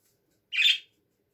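A pet budgerigar gives one short, loud, shrill squawk-chirp close by, lasting about a third of a second and surrounded by silence.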